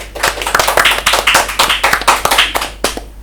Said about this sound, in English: Give applause for our guests today